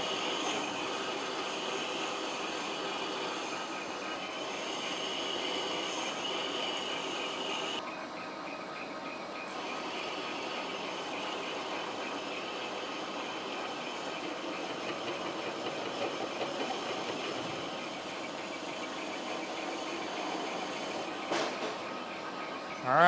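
A restored Lion lathe machines a new cross feed screw, a steady broadband whir and hiss of cutting running continuously and fairly close, with a brief change in tone partway through and a clunk at the end.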